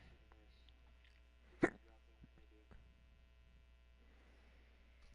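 A single hiccup pops out sharply and close over a faint electronic hum, followed by a couple of small softer sounds, with otherwise quiet surroundings and no talk.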